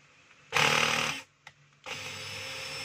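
A cordless power tool, said to work only intermittently, is tested on a screw. A loud motor whir runs for about a second, cuts off, gives a tiny blip, then spins up again steadily to the end.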